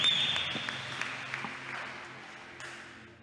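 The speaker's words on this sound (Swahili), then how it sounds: "Yesu makofi mazuri." A church congregation applauds during a sermon, a soft wash of clapping that fades steadily, with a brief high ringing tone at the start and a few louder individual claps.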